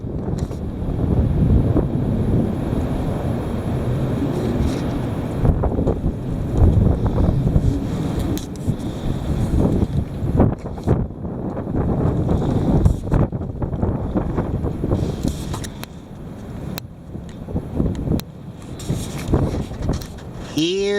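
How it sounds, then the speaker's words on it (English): Heavy wind buffets the microphone in a constant, loud, rumbling roar with gusty surges throughout, and some faint voice-like sound may sit underneath. "Here it is, the heavy wind."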